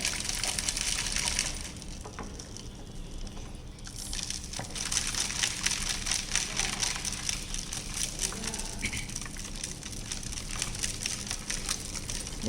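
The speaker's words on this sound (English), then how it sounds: "Stir that solution until it gets completely dissolved." Sodium hydroxide pellets being stirred into a solution for a thermochemistry measurement, a steady wet swirling and gritty rattle of pellets against the container, continuous and fairly quiet.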